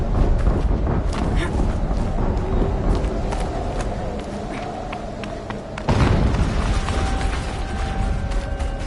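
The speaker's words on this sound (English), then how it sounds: "An explosion." Video game explosion in Horizon Zero Dawn: a sudden broad boom bursts about two-thirds of the way through, amid continuous loud rumbling, mechanical clatter and game noise.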